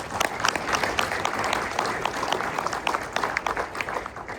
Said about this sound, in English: Can we give one more round of applause to them?